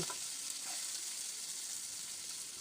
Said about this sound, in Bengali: পেঁয়াজ আর কাঁচা লঙ্কাটাকে একটু সময় ভেজে নিচ্ছি